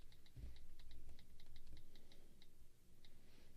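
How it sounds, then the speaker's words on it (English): Soft taps land on an iPad's split on-screen keyboard in an irregular run of light clicks, close and quiet with no talking. "I can split the keyboard and type like this, just like I was on my smartphone"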